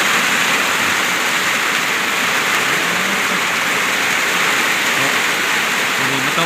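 Heavy rain pours steadily on a Thai village home, a dense, continuous hiss that stays loud and even throughout with no pauses.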